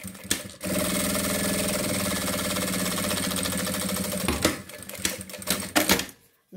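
Sewing machine stitching a fabric lining to the outer material of a zippered tablet case, a steady fast mechanical whir for about four seconds, then a few short stop-start bursts before it goes quiet.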